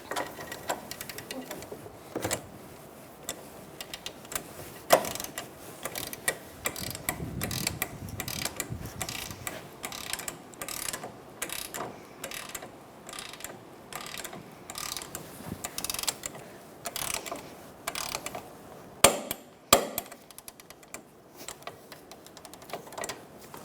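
A torque wrench ratchets in steady bursts of clicks while tightening a sway bar link on a 2004-2009 Mazda 3, up close with the occasional louder clack.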